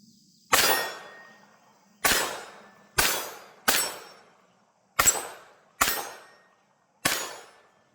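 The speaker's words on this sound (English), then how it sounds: "We'll go not suppressed on some steel this time." An unsuppressed Taurus TX22 .22 pistol fires seven sharp, loud shots at irregular intervals, each with a metallic ring from the steel targets decaying after it.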